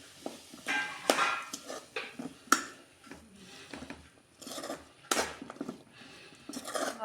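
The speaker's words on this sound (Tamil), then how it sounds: "நல்லா இப்போ இதை மிக்ஸ் பண்ணி விட்டுக்கலாம்." Long beans toran being stirred in a pan, with irregular scraping and clinking of a utensil against the metal over several seconds, close and moderately loud.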